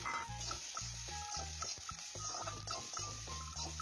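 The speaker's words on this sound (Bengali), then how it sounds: "দুটো একসাথে ভালোভাবে কিছুটা সময় একটু নাড়াচাড়া করে ভেজে নেব" Boiled green beans and capsicum being stir-fried together in a pan, a steady oil sizzle under repeated rhythmic scraping and tossing of the spatula, close and fairly loud with no talk.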